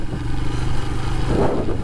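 A Royal Enfield Himalayan adventure motorcycle riding, a loud close steady engine thrum with a brief rise in revs near the end.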